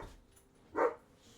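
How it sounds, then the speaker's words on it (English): A sedated dog gives a single short, muffled bark at a distance in an otherwise quiet room. "My dog is barking."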